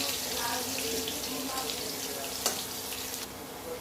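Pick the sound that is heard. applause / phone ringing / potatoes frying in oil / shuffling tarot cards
potatoes frying in oil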